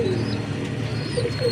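A racing pigeon arriving at its loft, soft cooing calls close by over a steady low background hum, with a few faint chirps from other birds.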